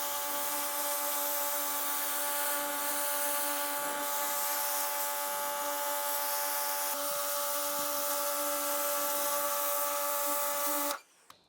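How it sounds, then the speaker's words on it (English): A pressure washer jets along patio joints, blasting out weeds, a steady loud high-pitched hiss with a constant motor whine running unbroken for about eleven seconds before cutting off abruptly. "I'm going to stick the pressure washer on there now, directly on it."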